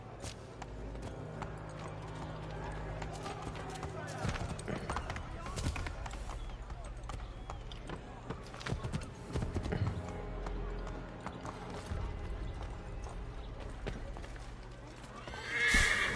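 Hooves clip-clop steadily while a horse whinnies in Assassin's Creed III, with game ambience and a steady drone underneath.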